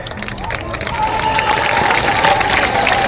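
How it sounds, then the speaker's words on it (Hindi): Women in a crowd clap at a political rally, a loud, steady wash of clapping and cheering with crowd babble and a voice running through it. "ये देखो महिलाएं ताली बजा रही हैं।"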